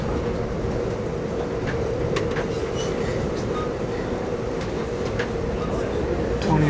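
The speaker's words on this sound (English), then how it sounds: "We're to pass our sister train," An eastbound California Zephyr passenger train passes alongside the Colorado River near Dell, Colorado, heard as a steady, loud rail rumble with faint wheel clatter throughout.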